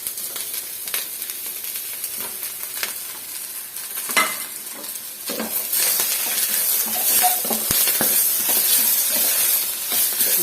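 Thinly sliced, long-cut chicken pieces sizzle in a pan with sautéed vegetables for a Chinese-style dish, a bright hiss that swells louder partway through, with occasional stirring scrapes.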